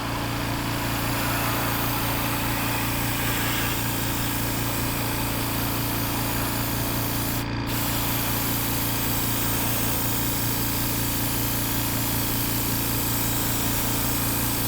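A steady, loud mechanical hiss and hum runs continuously from a compressor-driven paint spray gun spraying paint, with one brief cut midway.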